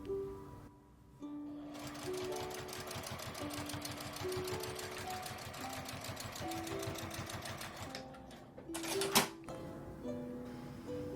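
A sewing machine runs nearby in one long burst of fast, even needle clatter, stitching along the edge of fabric for a small ironing board, then stops with a brief clunk under soft background music.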